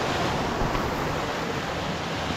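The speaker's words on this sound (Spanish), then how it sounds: "una breve cascada a mis espaldas. El agua está sumamente helada." Small cold mountain waterfall in the community of Santa Rosa, Rayones, Nuevo León, a close, steady broadband rush of falling water, loud and unbroken, with some wind buffeting on the microphone and no talking.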